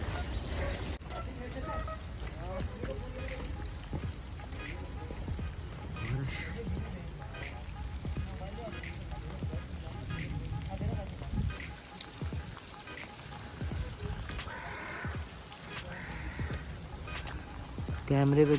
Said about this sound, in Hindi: बारिश बहुत तेज़ हो रही है, आवाज़ आपको आ रही होगी